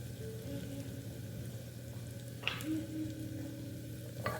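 Ginger garlic paste and turmeric fry gently in a pan, a soft continuous sizzle with a few light scrapes and clinks over a steady low background hum.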